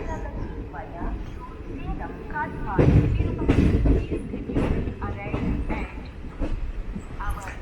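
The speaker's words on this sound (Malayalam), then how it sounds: "അപ്പോൾ നമ്മളങ്ങനെ കോയമ്പത്തൂർ ജംഗ്ഷനിൽ നിന്നും പുറത്തോട്ട് ഇറങ്ങുകയാണ്" The Jan Shatabdi Express pulls out of Coimbatore Junction, heard from on board as a rumbling roll with rhythmic wheel clatter and bangs over points, under someone talking.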